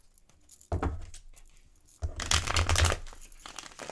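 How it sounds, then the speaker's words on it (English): Tarot cards are shuffled in two quick bursts of riffling and flapping, close and crisp, separated by a brief quiet pause. "We're just going to shuffle these cards a little bit more."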